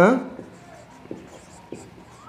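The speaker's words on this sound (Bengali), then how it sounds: "তাহলে চলো এখানে আমরা উত্তর লিখবো।" A pen writing an answer on paper makes a few faint, short scratchy strokes, spaced apart. Someone speaks briefly at the start.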